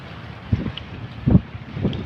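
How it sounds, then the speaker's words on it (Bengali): Low, gusty wind rumbling and buffeting outdoors by the water in Qatar, with a few stronger blasts rising above a steady background roar. "এই যে দেখতেছেন, বাতাস মোবাইল নিয়ে যায়।"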